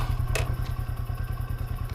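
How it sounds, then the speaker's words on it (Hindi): A motorcycle engine thumps in a steady, low, rapid idle rhythm close by as it comes to a stop, with a sharp clatter early on and no talking. "बाइक क्यों रोक दी?"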